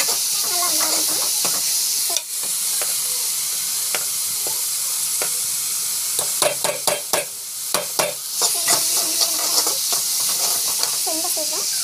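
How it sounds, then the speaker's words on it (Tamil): Vegetables with cashew nuts and coriander sauté in a pan, with a continuous sizzle and intermittent scraping stirs of a spoon against the pan, close up and fairly loud. "ஸோ நல்லா வந்து வதக்கலாம்."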